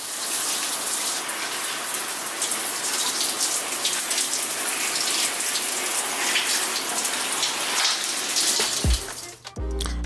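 Running water from a bathroom tap streams steadily as bleach is rinsed out of a lace wig, a loud continuous gush that cuts off abruptly near the end.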